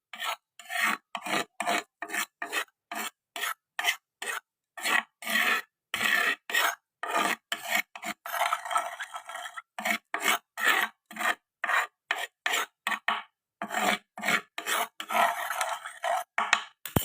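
Spices are ground in a stone mortar (cobek), giving a close, rhythmic rasping scrape repeated in quick strokes, with brief pauses between bursts.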